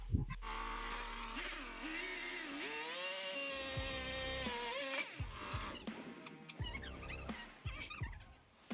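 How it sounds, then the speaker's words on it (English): A chainsaw cuts a wooden beam to size, its engine whining steadily and shifting in pitch as it bites, then breaking into shorter uneven bursts toward the end. "that was the hardest cut I had to make using the chainsaw"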